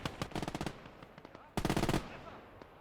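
MG42 machine guns fire in Gates of Hell, two distinct rapid bursts of loud rattling shots separated by a brief lull with scattered distant cracks.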